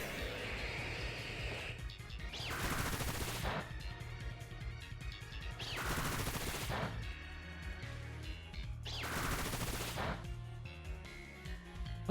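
Bullet Seed attack in a Pokémon battle video game, with three separate bursts of rapid popping, crashing hits over a steady rhythmic music backing and no talk.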